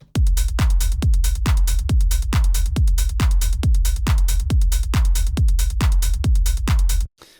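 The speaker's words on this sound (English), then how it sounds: "just a dry 909 kit" A dry, unprocessed Roland TR-909 drum machine beat plays alone, with punchy kicks and short ticking hi-hats in a steady, even rhythm before stopping abruptly.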